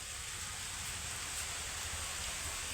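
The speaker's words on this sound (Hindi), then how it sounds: "बारिश शुरू हो गई है" Light rain falls steadily outdoors, a constant dense hiss of droplets with no distinct pauses and no voices.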